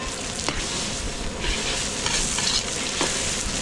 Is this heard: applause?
no